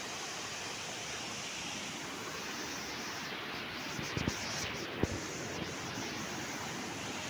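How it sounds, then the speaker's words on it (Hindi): Water flowing in a steady, even rush like a stream or runoff channel, continuous broadband noise at moderate level with a few faint knocks near the end. "देखो पूरा पानी जा रहा है,"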